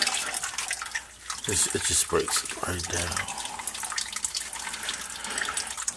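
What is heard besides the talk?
Bore Saver liquid poured into a sump pump pit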